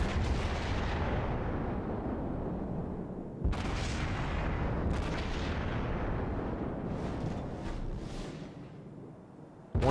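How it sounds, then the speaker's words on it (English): A Mogami cruiser firing rapid artillery salvos in World of Warships, heavy booming shots repeating every second or two with rolling low rumble between them, no voices. "One of the many nice things about the Mogami is it's a very rapid firing ship"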